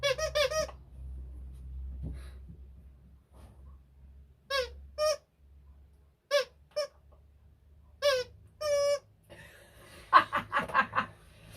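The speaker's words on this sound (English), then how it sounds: "We're a bit squeaky." A wheel-less skate squeaking in short, sharp bursts, several separate squeals spaced a second or two apart against a quiet background, ending in a quick cluster of squeaks.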